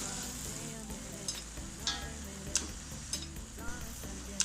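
Quail pieces sizzle and fry in biryani masala while being stirred, with steady crackling broken by sharp scraping strokes of a spoon against the pan, close and continuous.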